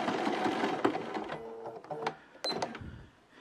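A sewing machine runs a feather stitch in short uneven bursts of mechanical whirring and clicking, stopping and starting with sharp taps and knocks, close by and fairly quiet.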